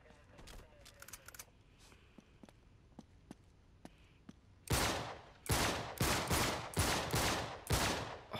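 Video game gunfire from Uncharted: Drake's Deception: faint scattered single shots at first, then loud rapid bursts of automatic fire in repeated close volleys.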